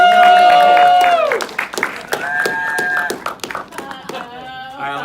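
Scattered crowd applause with sharp clapping bursts, heard under sustained musical tones and some voices from a live audience.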